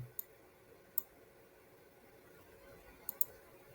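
Sharp, faint clicks from a computer mouse being left-clicked, four in all: two spaced singles near the start, then a quick double near the end, each standing alone over a quiet background hum.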